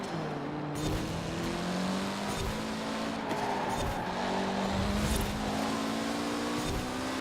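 Mitsubishi all-wheel-drive car in Forza Horizon 4 racing under steady throttle, a continuous loud engine drone with shifting pitch through corners and bursts of tire noise, no talk.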